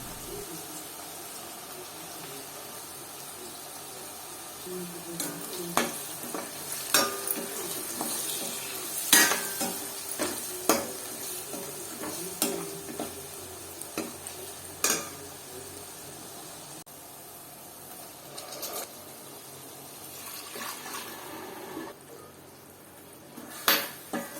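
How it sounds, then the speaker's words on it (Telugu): Boiled mutton with onions and green chillies cooking in oil for a mutton brinjal curry, with metal utensil scrapes, pan clatter and soft sizzling in a steady, moderately close run of clinks and stirring. "వేడెక్కిన నూనెలో ఉల్లిపాయలు, పచ్చిమిర్చి వేసి దోరగా వేగిన తర్వాత ఉడికించిన మటన్ను దానిలో ఉన్న నీళ్లతో పాటు వేసి కాసేపు వండుకోవాలి"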